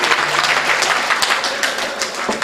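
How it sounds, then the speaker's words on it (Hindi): Loud applause from a mushaira audience, a thick wash of many hands with a few sharper individual claps standing out, continuing for the whole short stretch. "एक बार जोरदार ताली हो जाए हमारे हाजी जी के लिए"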